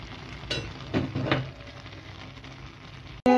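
Liver cooking in its own juices in a pan, giving a steady close sizzle with a few stirring scrapes early on and a brief louder burst at the very end, with no voices.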